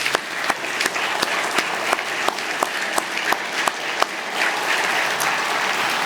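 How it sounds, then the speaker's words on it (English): Round of applause from an audience at a Father's Day gathering, a dense wash of clapping with sharp, regularly spaced louder claps from someone nearby. "can we give Jon just a round of applause?"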